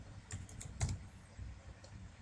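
Python code being typed on a computer keyboard, a quiet run of soft key clicks at an uneven pace with one slightly louder cluster partway through, no voice.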